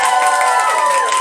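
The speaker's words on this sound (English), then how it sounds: "so give her a cheer for that" A live audience at a drag competition cheers and claps for a drag contestant, a brief, loud burst of crowd noise.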